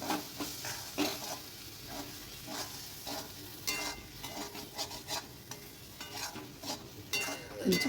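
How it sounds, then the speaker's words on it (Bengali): Garam masala paste is stirred into a banana flower curry in a pan, giving a quiet, soft sizzle with repeated light scrapes and taps of the spoon at an uneven rhythm, fairly faint and without talk. "এবার ভালো করে নাড়াচাড়া করে নিচ্ছি"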